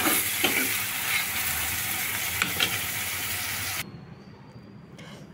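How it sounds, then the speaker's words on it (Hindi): Loud, steady sizzling of spices dropped into hot oil for tempering dal, close up, which cuts off abruptly partway through, leaving faint quiet background. "अब मैं इसमें तड़का लगा रही हूँ"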